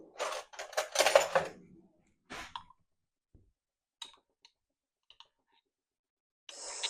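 Whisking sauce ingredients with Dijon mustard in a bowl: a few quick bursts of scraping and clinking near the start, then scattered light clicks of the whisk against the bowl amid near silence.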